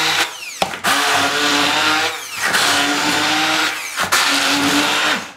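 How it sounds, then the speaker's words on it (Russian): Blender whirring through a filling for meatless dumplings, loud and close, running in several long bursts separated by brief stops, with a pitch that dips as the blades bog down. "Итак, теперь нужно это все перебить блендером."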